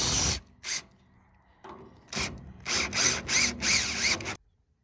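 Last screws driven into an Arrow carport frame, a power driver whirring in several short bursts of varying length separated by brief pauses, close and fairly loud.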